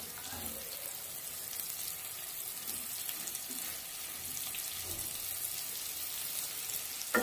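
Chopped onion goes into potatoes frying in oil, a soft steady hiss of sizzling oil, fairly quiet and even throughout, with a faint clunk right at the end and no talking.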